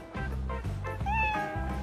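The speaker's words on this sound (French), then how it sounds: "Le chat a grimpé trop haut et n'arrive pas à redescendre." A cat stuck too high up meows several times, close and plaintive, with low rhythmic music underneath.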